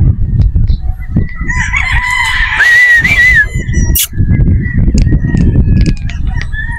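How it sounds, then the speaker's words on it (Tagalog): Boston Roundhead rooster with a straight comb crowing once, a loud drawn-out call over a steady bed of clucking and other barnyard fowl nearby. "Ito isang straight comb din na Boston Roundhead."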